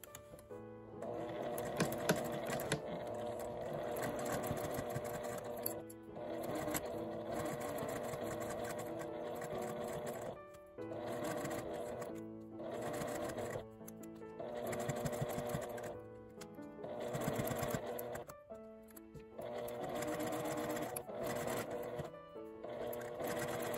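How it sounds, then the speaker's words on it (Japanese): A sewing machine stitches an L-shaped zipper on a compact wallet, running in steady whirring bursts with brief pauses between seams, close and clear with no talking. "印のところから縫い始めます"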